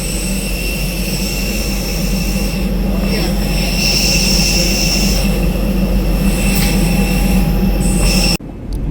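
At Sharjah airport, a loud, steady aircraft engine roar and whine fills the air near the terminal without a break, then cuts off abruptly near the end.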